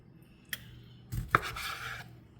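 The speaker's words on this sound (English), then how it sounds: "cut it in half and then cut it in half again, just so it can lay flat" A knife slices through an ingredient on a cutting board as a quick weeknight pasta is prepared, giving a single close, sharp cut with a scraping swish, then a brief clunk, and no talk.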